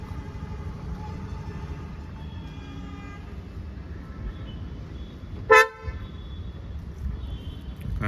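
A single short, sharp horn chirp from a Kia Seltos HTX sounds close by as the car locks remotely, standing out from faint low ambient noise.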